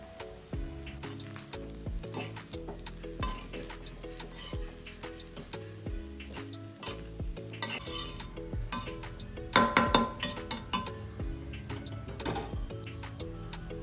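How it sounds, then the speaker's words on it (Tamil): Mushroom rice with coriander leaves stirred in a pan, repeated close scraping and clinking of a spoon against metal over a faint sizzle, irregular and busy throughout, with no talking. "கொஞ்சமாக கொத்தமல்லி இலையை தூவி விட்டு மிக்ஸ் பண்ணி விட்டுடலாம்"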